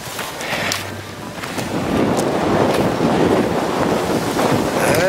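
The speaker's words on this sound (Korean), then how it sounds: "아따, 바람도 시원하게 죽여준다." Strong wind buffets the microphone outdoors on a rural mountainside, gusting roughly and growing louder after the first couple of seconds, with no speech.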